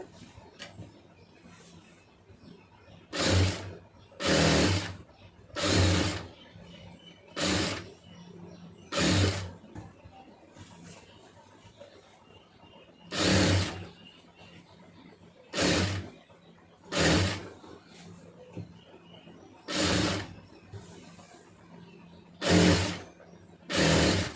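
A sewing machine stitches piping in a series of about eleven short, loud, evenly spaced running bursts separated by brief pauses, close by, with no voices.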